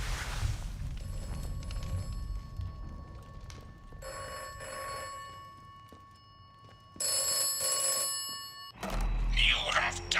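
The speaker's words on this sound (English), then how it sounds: "Ah, telephone ringing." A telephone rings in the video game Atomfall, its bell repeating in bursts over a low ambient rumble and continuing for several seconds before other game sounds cut in.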